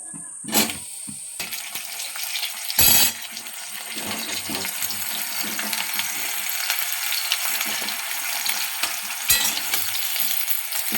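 Mango pieces fry in hot oil for a sweet mango pickle, giving a continuous bubbling sizzle with occasional louder clatters and splashes as they are added and moved.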